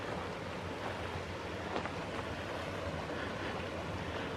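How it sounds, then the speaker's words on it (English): Stream water runs down through rocks at dusk beside a mountain lake, a steady, broad rush of flowing water with no break and no voices over it. "you can hear the water coming down from up higher through these rocks."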